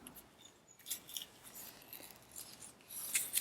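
Scissors snip through paper cards to trim them to size, a series of quiet, close cutting strokes with light rustling between them.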